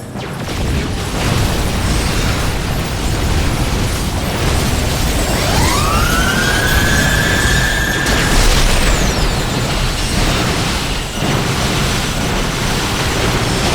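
Suppression tower blowing up in the StarCraft 2 co-op game, a loud continuous roar of explosion and debris with a rising tonal whine partway through.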